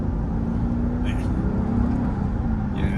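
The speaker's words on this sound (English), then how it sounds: "you step down on the gas of this car and you on the accelerator, you immediately know that this is an AMG car" A 1998 Mercedes-Benz E55 AMG wagon drives on, its engine a steady low drone with road noise beneath occasional voices, no sharp rise in revs evident.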